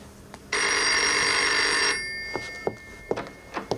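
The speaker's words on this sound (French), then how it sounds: "Téléphone." A telephone bell rings in one sustained, bright burst lasting about a second and a half, then stops, followed by a few faint clicks and handling knocks in a quiet room.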